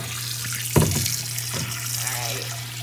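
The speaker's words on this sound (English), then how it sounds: "So let's go ahead and turn on the water." Warm water running from a bath tap, a steady close rushing stream with a brief splash as the flow starts, heard alone.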